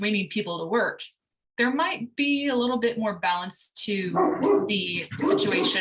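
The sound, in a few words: dog barking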